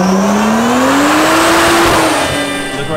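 A BMW N55 engine with a big turbo revs on a dyno during fuel and timing tuning, a loud sustained roar whose pitch climbs steadily and then eases off slightly, with no talk.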